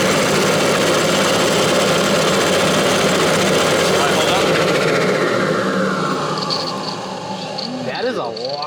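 Freshly swapped engine in a Nissan R33 Skyline running loud and rough with ignition timing badly off, a steady heavy drone with turbo whoosh, people talking over it near the end.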